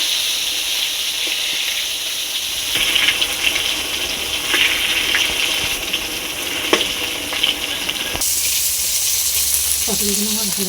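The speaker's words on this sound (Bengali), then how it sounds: "পটলগুলো আমার ভালো করে ভাজা হয়ে গেছে," Pointed gourd (potol) pieces, rubbed with salt and turmeric, fry in oil over a wood fire, giving a steady close sizzle throughout.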